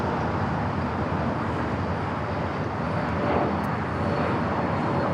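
An airliner takes off from runway 25 right at LAX, its engines heard as a steady, broad roar that holds evenly throughout, with no voices.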